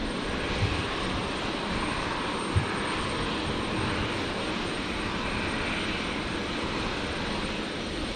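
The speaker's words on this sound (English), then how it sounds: "The 321 Neo, the new livery, arriving from Melbourne." Airbus A321neo in new livery arriving from Melbourne at Brisbane Airport at night, a steady broad jet roar held at constant level throughout, distant and unbroken, with no voices.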